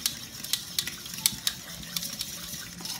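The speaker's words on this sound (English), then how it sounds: "So you're gonna whisk those together." A whisk clicks rhythmically against a bowl while beating together one egg and half a cup of sour cream for cranberry scones, with a steady series of light, fairly quiet taps and no talking.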